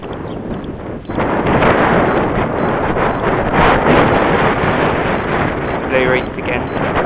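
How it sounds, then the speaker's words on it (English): Strong wind gusts roar and buffet the microphone on a windy day while an Eachine H8 Mini quadcopter flies outdoors, the loud rushing noise swelling after the first second and holding steady. "A big gust of wind just came and it's struggling to fight the wind"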